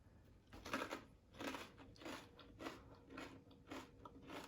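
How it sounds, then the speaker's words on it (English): Crisp, crunchy bites and chewing of a cracker dipped in hummus, a series of close, quiet crunches arriving in a loose rhythm about every half second to second. "So I'm gonna try it with my cracker."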